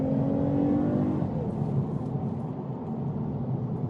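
A Porsche GT3 RS accelerates hard from inside the cabin, a loud steady engine roar and drivetrain rumble that eases slightly after the first second, with no talk over it.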